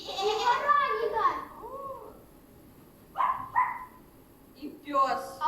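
A dog barks a few times in quick succession, loud and fairly close, after a stretch of child-like voices chattering amid other farm animal sounds.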